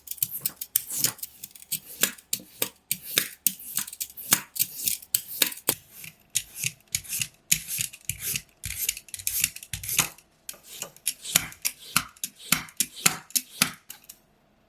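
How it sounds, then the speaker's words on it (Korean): A knife cuts peeled potatoes into thin julienne strips on a cutting board, a quick run of crisp, rhythmic strokes that continues with brief pauses throughout. "껍질 벗긴 감자는 가늘게 채 썰어 주세요."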